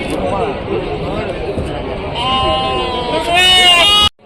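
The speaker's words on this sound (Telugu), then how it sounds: "ఇవి అన్నాయి గొర్రె పిల్లలు." Lambs bleat at a busy village livestock market, several thin cries rising near the end over steady crowd chatter and nearby talking.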